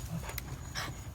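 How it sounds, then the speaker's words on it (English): Dogs bark agitatedly at a possum outdoors, with a couple of short, distant bursts rising over constant broadband background noise. "The dogs are going nuts."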